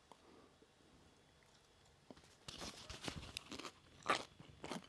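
Several loud, crisp crunches as someone bites into crispy fried chicken thigh skin from an air fryer, with quieter chewing between bites, close to the ear.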